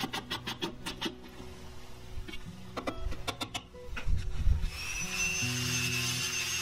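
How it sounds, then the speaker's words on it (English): Light clicks and knocks on a wooden record player cabinet give way to a Dremel rotary tool. It grinds down protruding screw tips with a steady, close, high-pitched whine. "I ended up just grinding the little bit that was sticking out down with a Dremel"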